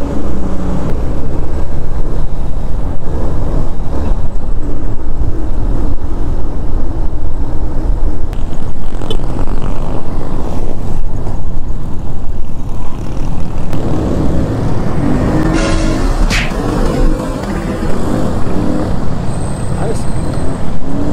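Motorcycle engine drones continuously while riding on a road, with steady wind and traffic noise and people talking over it.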